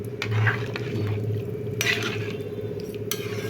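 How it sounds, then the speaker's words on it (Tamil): Curry being stirred in a cooking pot for a village-style kofta kuzhambu, a steady close scraping and sloshing with a few sharper clinks of the spoon against the metal, with no talking. "நமக்கு நல்லா கிளறி மூடி வச்சிடலாம்."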